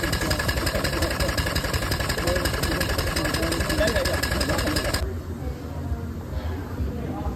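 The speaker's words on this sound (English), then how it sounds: "This engine is an Armington and Sims engine, also made in Providence, just like almost all of the others." An Armington and Sims steam engine built in Providence runs at a steam-up, a steady rhythmic mechanical chuffing and clatter that stays loud, then drops sharply to a quieter hum partway through.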